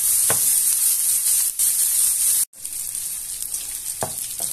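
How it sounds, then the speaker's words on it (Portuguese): Bacon and garlic frying in a pan give off a loud, steady sizzle with soft crackles. Two brief clatters of stirring cut through it, and the sound drops out for a moment partway through. "o nosso bacon já está fritinho, nosso alho douradinho"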